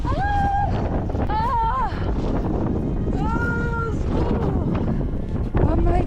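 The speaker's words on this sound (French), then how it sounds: "Il y a un vent de malade là." Constant strong wind near a 2000 m mountain summit roars and buffets the microphone, with a person speaking and exclaiming in French over it throughout.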